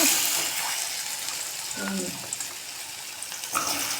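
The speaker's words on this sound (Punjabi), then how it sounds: "ਆਪਾਂ ਹੁਣ ਇਹਨੂੰ ਪਾ ਦਈਏ ਇੱਧਰ ਆਪਣੇ ਤੇਲ ਦੇ ਵਿੱਚ" Pieces of arbi (taro root) hit hot oil with a short burst of sizzling and frying near the middle, under a steady background hiss and some faint kitchen clatter.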